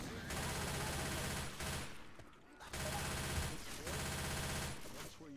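Sustained automatic gunfire in the zombie shooter Left 4 Dead 2, two long loud bursts of rapid shots with a brief quieter gap between, a voice occasionally audible underneath.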